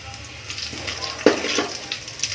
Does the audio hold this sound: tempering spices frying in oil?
yes